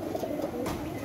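Pet pigeon cooing close by in a loft after rain, a soft, low, throaty burble running through the short moment amid background noise.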